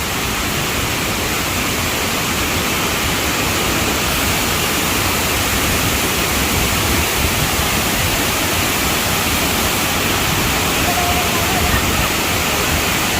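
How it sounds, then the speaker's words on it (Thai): Powerful waterfall at Sai Yok Noi in Kanchanaburi, Thailand, roaring as a steady, loud broadband rush of falling water that fills the whole stretch without pause. "โอ้โหสวยมากเลยน้ำตกแรงมากเลย"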